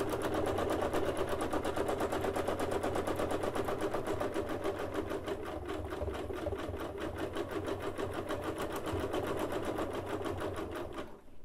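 A sewing machine free-motion stitching slowly over a bulky overlapping seam on a pants leg, steady rapid needle clatter running unbroken and fairly quiet for about eleven seconds with no talking.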